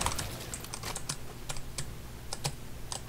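Computer keyboard keys clatter in quick, uneven bursts of sharp clicks as a player presses them during a late-night gaming session, close and fairly loud with no talking.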